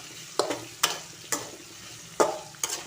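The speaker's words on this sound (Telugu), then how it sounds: "బాగా వేయించుకోవాలి దొండకాయలు ఇంకా ఉడుకుతూనే ఉన్నాయి" Ivy gourd (tindora) frying in a pan, with soft background sizzle broken by five sharp scraping stirs of a spatula at irregular intervals.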